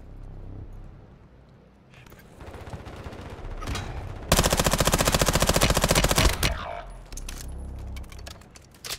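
Rapid automatic gunfire in a first-person shooter video game, with scattered shots early on building to a loud, sustained burst near the middle, then tapering into sparse shots and clicks.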